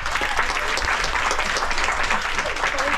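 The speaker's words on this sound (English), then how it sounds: "A round of applause, please, for Keith." Applause from an audience at an onboard lecture on an Antarctica expedition cruise, a loud, dense, continuous burst of clapping with a faint murmur of voices.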